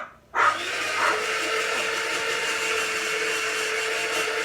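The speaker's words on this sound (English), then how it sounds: "So I'm going to try the slicing blade, see if that works." A food processor fitted with a slicing blade starts up abruptly and runs with a steady, loud whirring motor drone while cutting vegetables, no voices over it.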